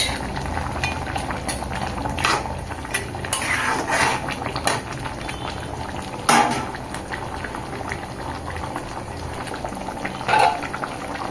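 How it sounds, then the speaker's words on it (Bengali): Spicy shankar (stingray) fish curry broth bubbles at a rolling boil in a pot, a continuous gurgling simmer with occasional clinks of a pot or utensil nearby. "ঝোল ফুটতে দেব। ঝোল ফুটে গেছে, ভেজে রাখা মাছ দিয়ে দেবো।"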